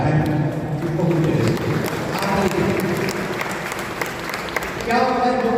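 An audience claps along in a continuous, moderately loud patter of many hands, with voices speaking over it near the end.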